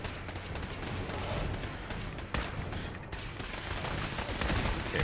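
Rapid, dense gunfire in Fallout 4, a steady barrage of shots running the whole time with one sharper burst partway through, close and loud with no pauses.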